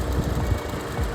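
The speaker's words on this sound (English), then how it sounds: "it doesn't seem to be idling right. It's chugga chugga chugga chugga." A high-mileage car engine with over 200,000 km idles roughly and unevenly, a loud close chugging with low irregular thumps and steady vibration throughout, no voices.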